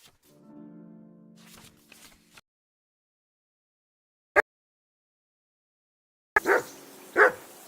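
A dog barks in the video game Kingdom Come Deliverance II: a few sharp, separate barks broken by stretches of silence, after a brief tonal sound at the start.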